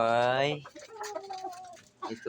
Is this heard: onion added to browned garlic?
no